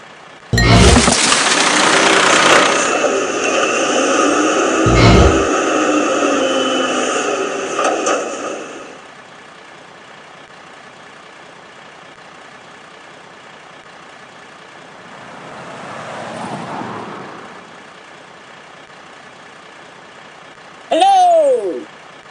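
Cartoon garbage truck engine in a children's truck game, revving loudly and steadily for several seconds before fading as it drives off, with a softer whoosh later and a short chirpy sound at the end.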